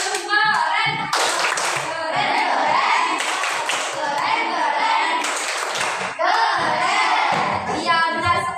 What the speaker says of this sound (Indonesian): Tepuk keren.